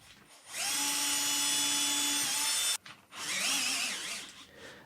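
A power drill drives screws into a wooden frame to lock a table leg in place: two close, loud whirring runs with a short pause between, and the motor pitch shifts on the second run.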